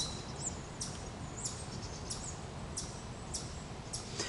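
Birds calling outdoors, with short bright chirps repeating about once a second over a quiet, hissy background, fairly faint and with no one speaking.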